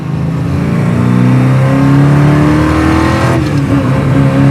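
A 1979 Chevrolet Camaro Z28 engine revs hard to about 5,000 RPM, its pitch climbing steadily as it accelerates through manual gears, loud and close, then drops briefly and rises again.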